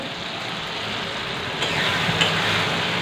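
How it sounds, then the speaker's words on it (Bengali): Loud, even sizzling of onion and tomato frying in a pan, a continuous hissing crackle up close with no talking. "এখানে পেঁয়াজ আর টমেটোটা আর কি ভাজছি"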